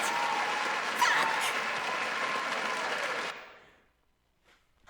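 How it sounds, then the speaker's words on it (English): A burst of dense applause plays during a livestream discussion of a visual novel, holding steady for about three seconds before cutting off abruptly into near silence. "A little applause, please."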